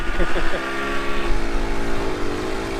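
Busy Saturday-afternoon traffic in downtown Thessaloniki heard from a bicycle, with car engines rumbling and passing close by in a continuous, dense wash of street noise.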